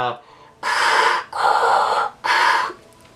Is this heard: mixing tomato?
no